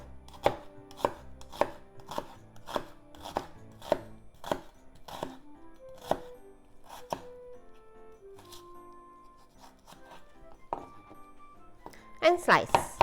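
Knife slicing and cutting potato on a wooden board for Japanese croquettes, about a dozen sharp, evenly spaced chops followed by a pause with faint tonal clinks and a final quick burst of cuts, close and clear.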